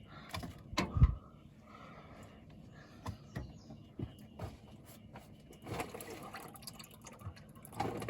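Engine oil drains from a 2006–08 Suzuki Grand Vitara 2.7 V6 during an oil change, a faint, low liquid trickle and splatter broken by a few soft clunks and knocks nearby.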